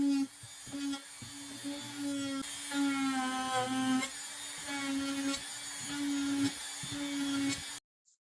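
Handheld router rounding over the ends of wooden farmhouse coffee table legs, a high whining motor cutting in several short bursts with brief dips between passes, fairly close, then cutting off abruptly near the end.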